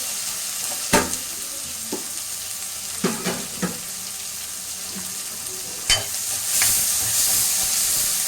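Onions sauté in a pan after bay leaf and cinnamon have gone in, a steady close sizzle broken by a few sharp stirring scrapes and clatters, with rising steam hiss near the end and no talk.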